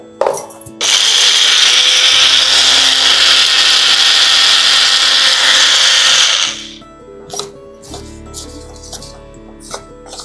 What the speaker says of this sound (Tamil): இப்போ நம்ம இந்த பொடியை அரைச்சிடலாம்.